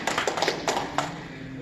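Audience applause at a Walking Dead comic con panel, a short burst of scattered claps that quickly thins out into crowd murmur.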